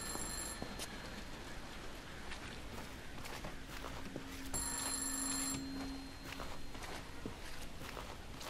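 A telephone ringing in the video game I'm Counting To 6, two bright bursts of ringing separated by a pause, with footsteps and low ambient hum throughout.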